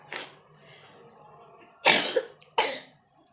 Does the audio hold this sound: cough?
yes